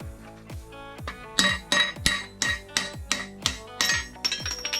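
Sharp metallic hammer blows strike a tool slid into a small block Chevy engine to knock out the cam plug, about a dozen ringing clanks in a steady rhythm, loud and close.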